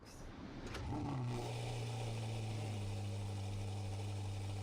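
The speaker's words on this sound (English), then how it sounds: "Take a listen to an exhaust rev or two from the SF90XX." A loud Ferrari SF90XX exhaust revs sharply, then settles into a deep, steady rumble with harmonics sustained close to the microphone.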